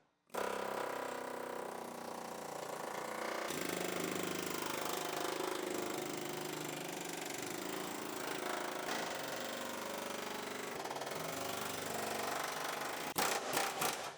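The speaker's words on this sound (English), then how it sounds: "Alright, cut the wheelhouse off." A power cutting tool slicing off the wheelhouse of a 2015 Mustang donor car in a shop, a continuous buzzing, rattling grind with shifting pitch, moderately close, ending in a few sharp metallic clatters.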